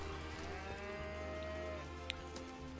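A cow in Divinity: Original Sin gives one long, drawn-out moo, loud and close, over a low steady ambient hum, with a small click near the end.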